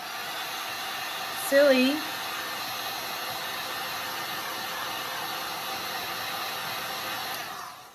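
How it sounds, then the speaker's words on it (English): A heat gun blows hot air across acrylic paint on a sculpted panel, a loud, steady, close roar held for the whole stretch, with a short spoken word riding over it early on. "Heat it up with the heat gun."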